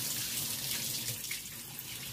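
Steady water poured from a tap or container over a monitor lizard, a continuous hissing splash running unbroken throughout with no voices.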